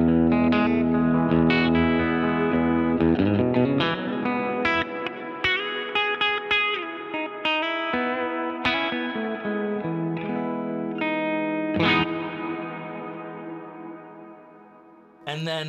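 Electric guitar chords through a plate reverb, drenched in lush, spacious reverb, notes blurring into long washing tails, played continuously and fairly loud with no voices.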